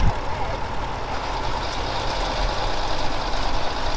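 An old tractor engine chugs steadily up close during potato planting, a low, loud, knocking idle that runs continuously with no talking.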